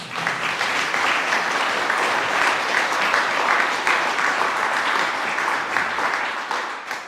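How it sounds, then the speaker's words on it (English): A room full of people at a London regional volunteer awards ceremony applauds an award winner, a dense, steady burst of clapping that holds for about seven seconds before it begins to fade. "Give me a round of applause"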